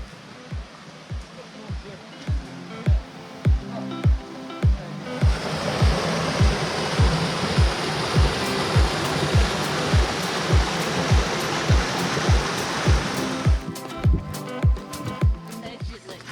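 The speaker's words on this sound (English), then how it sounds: "There was still a decent amount of water flow over the Cascades" Water pours steadily over the cascades of Lefroy Brook, a broad rushing wash of moderate loudness that swells midway, with a regular low thumping pulse underneath throughout.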